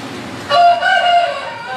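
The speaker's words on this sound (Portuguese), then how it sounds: "O Galo está dizendo amém, eu creio." A rooster crows inside a church during a service, a single loud, clear crow with rising and sustained tones ringing over the room's background murmur.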